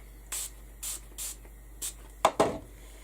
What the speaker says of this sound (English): I'm going to spritz some of the gold onto my mat